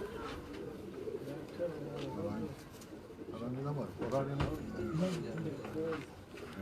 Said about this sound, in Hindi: ये एक और कबूतर है दोस्तों